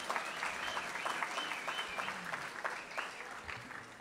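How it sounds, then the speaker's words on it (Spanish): Audience applause fills the room at an even, steady level, a dense patter of many clapping hands following congratulations to a team at a school event, with no voices standing out. "Vamos a darle un aplauso muy fuerte."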